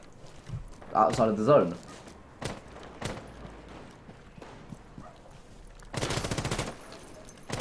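Short burst of rapid automatic rifle fire from Ash pre-firing barricades in Rainbow Six Siege, loud and dense near the end, after isolated single shots and a caster talking briefly.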